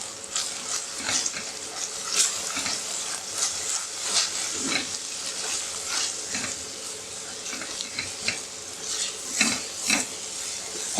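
Turmeric, coriander powder and chili being stirred into a sizzling capsicum masala curry in a pan, with steady frying crackle and repeated scraping strokes of a spoon.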